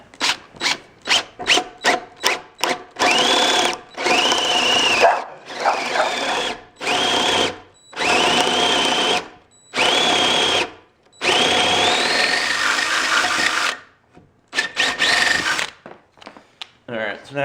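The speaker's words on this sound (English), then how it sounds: "So we're going to drill this." A power drill runs in short rapid bursts, then in longer whining pulls separated by brief pauses, loud and close, drilling into a custom bar shelf for an LED uplight.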